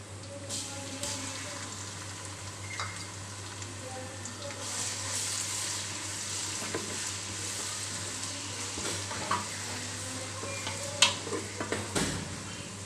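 Ginger, garlic and onion fry in oil for a fish curry, a continuous sizzle with occasional stirring scrapes and clinks against the pan, heard close throughout.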